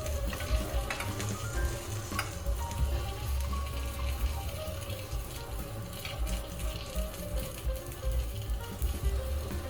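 Tomatoes blister and sizzle in a frying pan used for cooking salmon meunière, giving a steady, dense crackle that runs unbroken and fairly close throughout with no talking.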